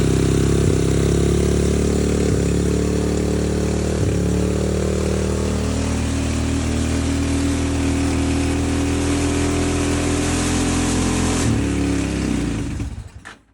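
A 200cc buggy engine running on its first start, a loud close, steady rumbling idle with a few slight rises in revs before it cuts off at the end.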